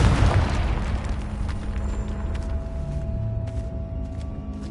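A Confringo explosion spell goes off in Hogwarts Legacy, with a loud booming burst at the start that settles into a sustained rumbling roar with crackling, fiery tails.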